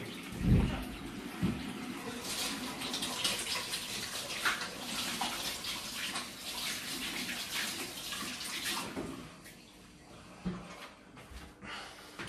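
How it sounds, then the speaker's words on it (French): Tap water runs over raw meat being rinsed in a kitchen sink, a close, quiet, steady splashing and trickling with small knocks and shifts as the meat is handled. "Je vais juste rincer ma viande parce que je l'ai touchée."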